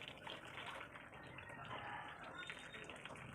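Hot water being poured off freshly boiled pasta, a steady gushing pour that runs continuously and fairly close, with no talk over it.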